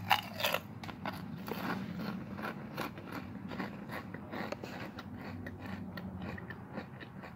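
Copycat Lay's-style potato chips crunch between the teeth in a run of close, crisp bites and chewing, irregular but steady, with no talk.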